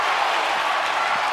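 Crowd cheering and clapping at a wrestling match, a continuous loud roar of massed noise that stays steady across the whole moment with no clear individual voices.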